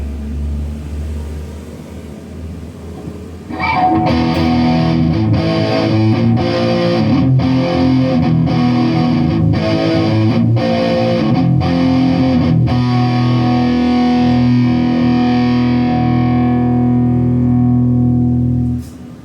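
A metalcore distortion patch from a BOSS GT-1 through a BOSS Katana-50 MkII amp roars in after a quiet moment, heavy palm-muted chugs and sustained chords ringing loud and close before fading out.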